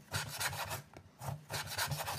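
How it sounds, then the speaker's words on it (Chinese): A knife slices pork belly into thin pieces on a cutting board, a few quick rasping strokes in two short bursts separated by a brief pause, close and fairly quiet. "五花肉适量，切成薄片。"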